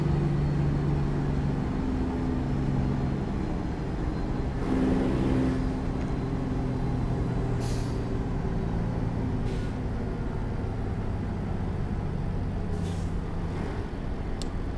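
A truck cab with no trailer in American Truck Simulator runs fast and steady, its engine drone continuous throughout, with a brief hiss near the middle and a few faint clicks later on.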